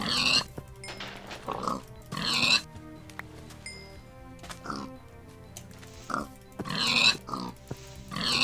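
Pigs grunt and oink repeatedly in Minecraft, short clipped game-sound bursts spaced irregularly across a steady low background hum, with no talking.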